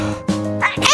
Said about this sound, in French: Bonbon éternue très fort sans faire exprès.